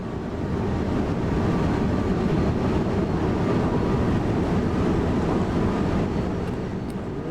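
A train on the Rhein-Ruhr main line near Essen in Train Sim World, running fast and slightly uphill, makes a continuous heavy rumble and roar at a steady level throughout, with no voices.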